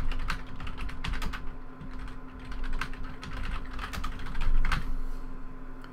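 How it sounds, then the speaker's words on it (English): Rapid, uneven keystrokes on a computer keyboard clatter close by in bursts for several seconds, set against a steady low hum with no voices. "So let's just type these in."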